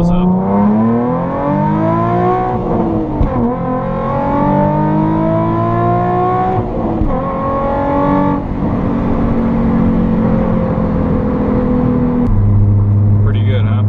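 A Nissan 350Z with a Tomei axle-back exhaust accelerates hard, heard from inside with the windows up: a loud engine tone climbing through the gears, with pitch drops at each shift and a final settle into a lower drone.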